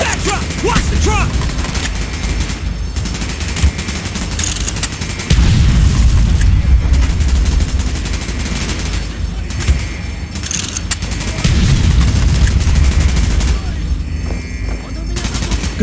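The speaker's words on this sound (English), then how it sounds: "Gunfire's drawing attention." Gunfire and explosions in the Call of Duty: Black Ops video game, with bursts of rapid automatic fire and heavy booms recurring through a loud battle mix.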